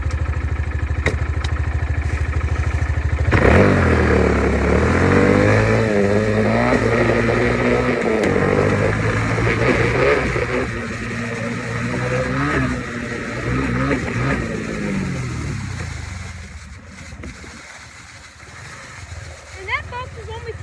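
A dirt bike pulls away from a second gear start, the engine revving up loud and close, climbing in pitch through a long acceleration before easing off and fading toward the end.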